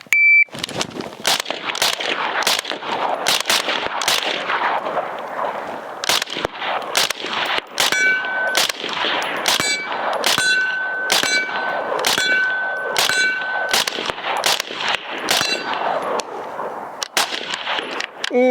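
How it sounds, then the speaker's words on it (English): Springfield Armory Hellion bullpup rifle fired on the move at A-zone steel targets 25 yards out: a rapid string of sharp shots, each followed by a bright ringing clang of hit steel, loud and close. "A-zone steel at 25 yards on the move."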